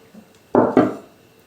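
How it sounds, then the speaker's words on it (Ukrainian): Spices for a roast pork shoulder are stirred together in a bowl, giving two quick, close knocks in succession against an otherwise quiet kitchen. "Тепер змішуємо наші всі спеції."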